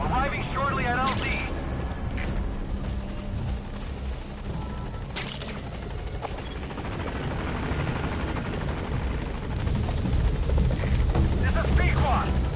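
A helicopter in Metal Gear Solid V closes in on a landing zone, its rotor thump and turbine roar steady and loud, swelling toward the end, with radio-style voices speaking over it.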